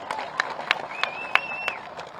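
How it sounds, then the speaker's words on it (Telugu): Scattered claps from an audience at a sarpanches' honour meeting in Nalgonda come as a handful of separate, uneven bursts over a low murmur, with a faint tonal whine running through the middle. "పేరు పేరున అందరు గట్టిగా చప్పట్లు కొట్టాలి."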